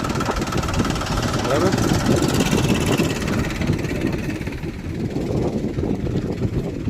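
A farm tractor engine running with a steady, rumbling mid-pitched idle that stays loud throughout, while people talk over it.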